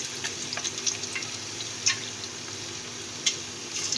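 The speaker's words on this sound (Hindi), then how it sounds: "मैंने ऑयल को जो है गर्म होने के लिए रख दिया है। तो ये देखिए, ये मैं अब एक एक चिप्स उठाती जाऊंगी और इसमें डालती जाऊंगी।" Potato chips frying in hot oil in a home kitchen, a steady soft hiss of bubbling oil with a few brief crackles and pops scattered through, close and continuous.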